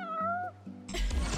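A cat in Final Fantasy XV gives a drawn-out meow, then a second shorter call before a burst of louder game noise takes over.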